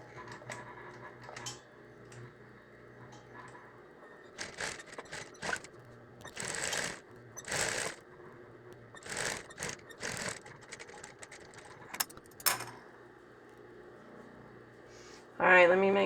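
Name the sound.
sewing machine back stitching a hooded towel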